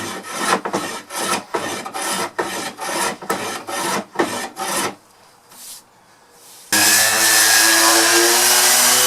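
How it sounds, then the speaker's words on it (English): Hand plane shaving a chamfer along a wooden edge for a grandfather clock, sounding as a run of about a dozen steady rasping strokes up close, then a quiet pause before a louder, continuous tonal rasp takes over. "I'll just plane it, then give it a little sanding"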